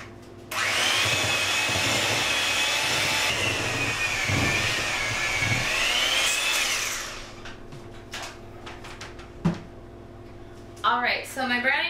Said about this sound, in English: now I'm going to use my mixer to get the rest of everything well blended.